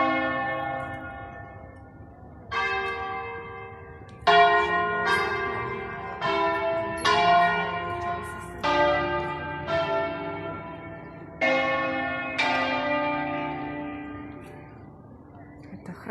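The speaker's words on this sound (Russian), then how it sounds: "Колокол бьет, и луна над ним висит." Church bell at Sant'Ambrogio in Italy tolling in slow, evenly spaced strikes, each ringing out with a long shimmering decay that overlaps the next; loud and resonant, with no voices.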